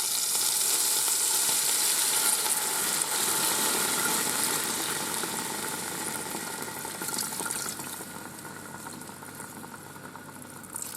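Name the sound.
pouring liquid into Ninja Foodi pressure cooker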